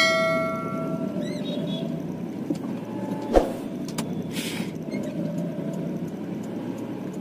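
Steady low road and engine rumble inside a car being driven, likely a ride-hailing taxi, with a brief clunk midway and faint ticking, no talk.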